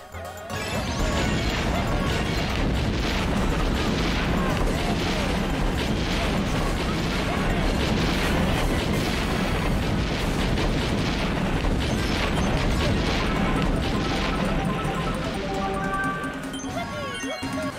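Giga Bombs bursting from 16 cannons in Mario Kart Tour, a dense, sustained barrage of overlapping crashes and booms layered with game music, loud and unbroken for the whole stretch.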